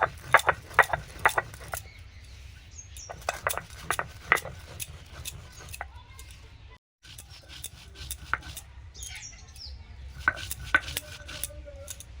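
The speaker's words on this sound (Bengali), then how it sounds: "ভাজা মশলাগুলো গুঁড়ো করে নিচ্ছি শিলনোড়াতে।" Roasted cumin, coriander and ajwain ground on a stone slab with a stone roller, making close, irregular knocking and scraping strokes in uneven bursts, with a short pause midway.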